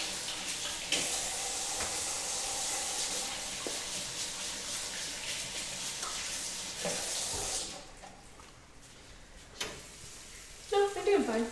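Burger patties frying in a pan give a steady, loud sizzle for about eight seconds, then it drops away and brief sink water runs near the end.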